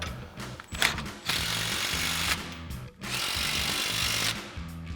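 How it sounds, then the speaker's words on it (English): Impact wrench with a 14 mm socket tightens U-bolts on a Ford F-250 in two loud, close bursts of rapid hammering, separated by a short pause. "we'll grab our 14 mil socket on our impact for that"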